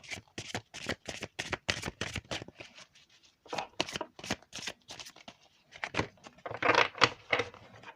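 Cards shuffled by hand for a card reading, giving repeated quick riffling bursts in an uneven rhythm, close and fairly quiet, with short pauses between runs.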